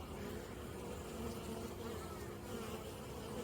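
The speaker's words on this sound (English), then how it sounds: "You might be able to see them coming in with pollen." Honeybees flying around the entrance of a hive, a dense steady buzzing hum close by, unbroken and at an even level throughout.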